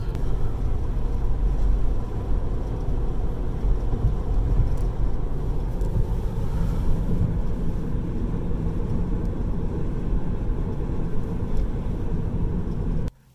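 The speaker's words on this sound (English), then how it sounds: "you can hear the difference between the wind noises coming out through the window" Steady low rumble and broadband rushing of wind and road noise inside a moving Tesla Model 3, continuous and fairly loud, cutting off abruptly at the end.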